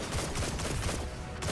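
Rapid gunfire from a weapon in Destiny 2 fills the moment, a dense continuous burst of shots, loud and close, with no pauses.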